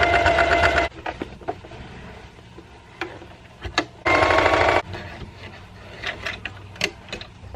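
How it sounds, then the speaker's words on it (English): Sewing machine running in two loud bursts, stitching a green fabric fin onto a chalk bag, with softer clicks and fabric handling in between. "I'm about to sew this piece of fabric on there"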